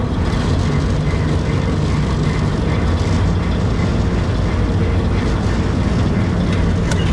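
A Bizon combine harvester's engine runs at raised revs, giving a loud, steady, unbroken mechanical drone with a dense low rumble that holds at one level throughout, with no voices.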